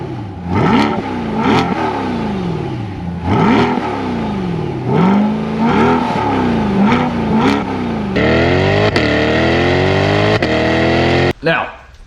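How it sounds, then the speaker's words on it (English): A Corvette C8 with dual mode exhaust revs hard repeatedly, loud close engine climbing and falling in sharp blips before a sustained high rising rev that cuts off abruptly. "you also get the dual mode exhaust, which sounds fantastic."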